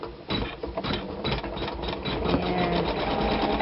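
A sewing machine runs steadily while stitching an applique down onto quilting fabric, giving a close, continuous whirring chatter of rapid needle strokes with no talking.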